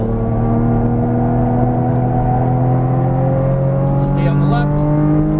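Porsche Cayman GTS on a racetrack holding a steady, loud engine drone with rising harmonics as it pulls toward full throttle, a voice talking over it throughout.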